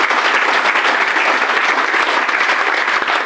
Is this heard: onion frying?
no